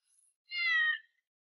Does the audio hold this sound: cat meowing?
yes